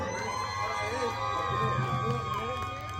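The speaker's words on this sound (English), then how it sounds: "Now let's hear another round of applause for this couple right here." Spectators at a Punta Garifuna dance event cheer, whoop and shout steadily, with children's high voices among them and steady tones running underneath. The crowd swells slightly in the middle and holds a constant roar throughout.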